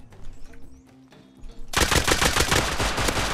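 Gunfire in the survival game Rust. A few scattered shots come first, then a dense burst of rapid automatic fire grows loud and continuous near the end.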